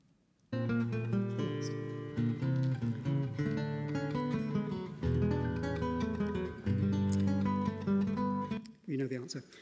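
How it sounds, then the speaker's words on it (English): A guitar plays a short melodic passage with sustained notes and chords, clear and close, ending abruptly. "So obviously this is a guitar."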